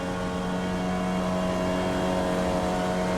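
A Formula Vee race car at Lime Rock, its engine held at high revs in a steady, loud, buzzing drone that never lets up, with no one talking.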